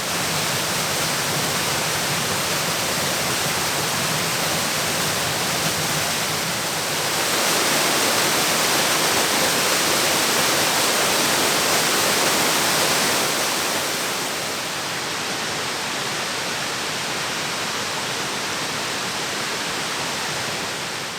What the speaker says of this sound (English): Beautiful waterfall, worth the hike